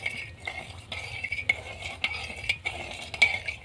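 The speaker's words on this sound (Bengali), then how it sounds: "এখন চিনি ও লবণটা এর সাথে নেড়ে চেড়ে মিশিয়ে নেব।" A spoon stirs sugar and salt into water in a vessel, making repeated rhythmic swishing strokes with light metallic clinks against the side, close and fairly loud, no speech.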